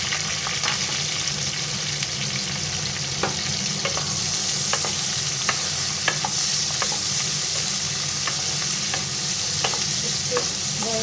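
Sliced onions sizzle steadily in hot oil with whole cloves, cardamom and cinnamon, a loud continuous frying hiss with scattered crackles and occasional stirring scrapes, no voices.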